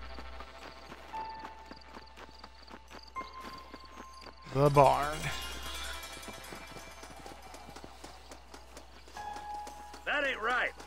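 Horse hooves clip-clop in Red Dead Redemption 2, a steady rhythm of steps running through the clip beneath someone talking, with a louder burst of other sound midway.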